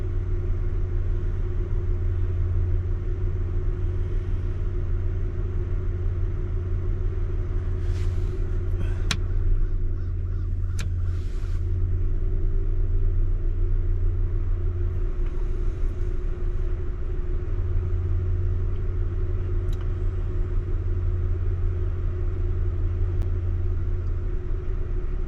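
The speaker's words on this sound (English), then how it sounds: "Right now those fans are turning." A Dodge Caravan idles with its radiator cooling fans spinning, a constant close rumble and whirring hum that holds steady throughout with no speech.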